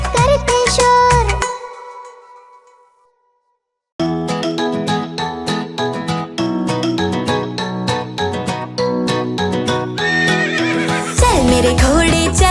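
A horse neighs loudly at the start of a Hindi children's rhyme about riding a horse. After a brief silence, bouncy music with clip-clop-like percussion and chimes takes over.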